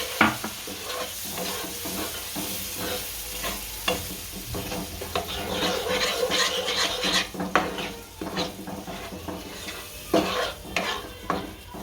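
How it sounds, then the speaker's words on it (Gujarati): Yogurt is stirred into a hot tempering for Gujarati dahi tadka, with continuous rasping spoon scrapes against the pan over a bubbling sizzle, rhythmic and close throughout. "આ દહીં નાખી દઈશું અને ભેળવી નાખશું"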